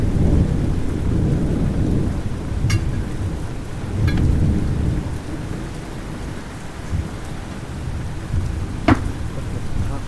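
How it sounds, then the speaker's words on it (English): Heavy rain pours down on a tent at night during a thunderstorm on Stewart Island, with steady hiss punctuated by a few sharp nearby thunder cracks and low rolling rumbles. "Hosing down with rain."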